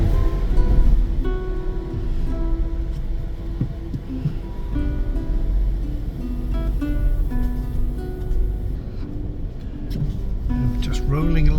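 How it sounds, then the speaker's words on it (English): A car rolls slowly along the length of a Eurotunnel shuttle train from carriage to carriage, giving a steady low rumble of tyres and cabin noise. A person talks over the drive. "Just rolling along the length of the train now, going from carriage to carriage."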